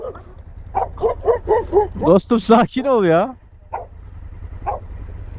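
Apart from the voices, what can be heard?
dogs barking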